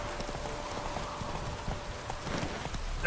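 Horse clip-clopping in the video game The Witcher 3, a steady run of hoofbeats on the ground under a wash of ambient game noise, moderately faint and without talk.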